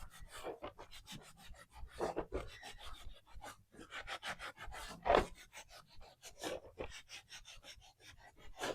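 A brush rubs aging wax onto a salvaged light fixture with steady, close, scratchy back-and-forth strokes in quick rhythm, running without pause and with no talking.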